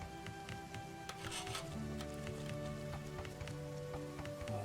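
Rain falling in the video game Rimworld, a steady dense patter of drops on surfaces that continues throughout under low game ambience and tones, with no talk.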